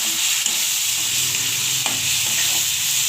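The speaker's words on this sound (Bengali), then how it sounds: "এরপরে দিয়ে দেবো একটু টমেটো একটা দিয়েছি, এটাকে ভালোভাবে কষিয়ে নেব" Tomato sautéing in oil with fenugreek seeds for a catla fish curry, a loud close sizzle with occasional spatula stirs and small clinks over a short, even stretch.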